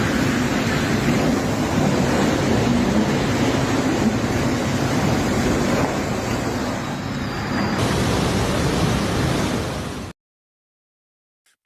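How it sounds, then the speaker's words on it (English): Ocean waves surge toward a bridge in a windstorm, a dense, continuous roar of surf and wind buffeting the microphone for about ten seconds before cutting to silence. "Massive water waves rushed toward the bridge and nearly destroyed it."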